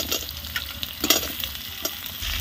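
Five-spice seeds, dried chilli, onion and potato sizzle in hot oil in a village kitchen, with a spoon scraping and stirring through the pan in irregular strokes. The frying is close, steady and busy, with no voices.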